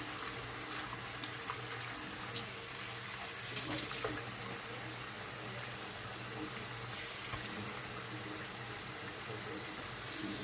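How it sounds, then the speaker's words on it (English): Tap water rinsing kale greens in a sink: a steady, hissing rush of running water fills the scene from start to finish, with faint clinks and splashes underneath. "So I'm going to start the rinsing."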